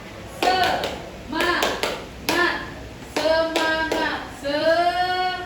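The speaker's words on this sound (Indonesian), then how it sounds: "melakukan tepuk semangat." A rhythmic classroom clapping ice-breaker: a teacher leads the students in several close, loud bursts of claps and taps, with spoken cheering between the groups.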